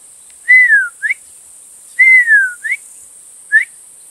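A handheld white-fronted goose call blown by mouth: two long, falling whistled notes, each closed by a short, upturned clucking syllable, then one lone cluck. Close, clear and alone.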